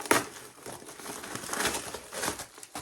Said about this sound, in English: Oh, and it's in paper too.